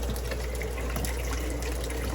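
Tap water runs steadily into a sink while brine shrimp are being hatched, a continuous close hiss and splash of gushing water, even in level throughout with no speech.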